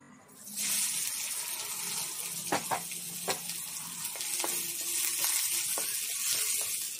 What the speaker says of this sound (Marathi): कांदा आम्ही असा खरपूस असा भाजून घेऊया।